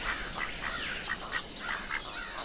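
Assorted bird calls used as a sound effect in a Kazakh fairy tale, repeated chirps and squawks in a busy chorus that keeps on steadily throughout, with no one talking.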